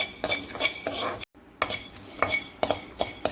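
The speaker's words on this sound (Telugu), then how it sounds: "మనం కొన్ని మిరియాలు ఇవి వేసుకొని ఇప్పుడు ఒకసారి మిక్స్ చేసుకోవాలా?" A spoon stirs and scrapes peppercorns with star anise and other whole spices in a cooking pan, giving close, brisk metallic clinks in short bursts with one brief pause.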